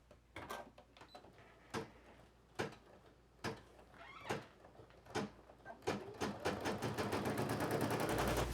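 An embroidery machine sews a satin stitch on a plush project in a multi-position hoop. Evenly spaced mechanical clunks give way to a fast, steady stitching rattle near the end, with no talking.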